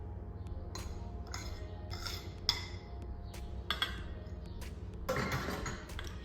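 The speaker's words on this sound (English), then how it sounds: "Mix those carefully until combined." A spoon works heaped Cadbury cocoa into self-raising and plain flour in a bowl for chocolate freckle biscuits, making quiet, irregular clinks and scrapes against the bowl with short pauses between strokes.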